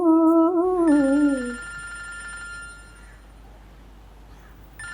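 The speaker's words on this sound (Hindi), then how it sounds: "अरे फोन बज रहा है।" Telephone ringing indoors, a warbling electronic ring that sounds clearly once and then fades, followed by quiet room noise, a faint chime and a high whine.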